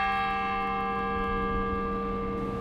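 Church-style bells ring on the University of Portland campus, a steady sustained peal with long overlapping tones, heard alone at moderate loudness throughout.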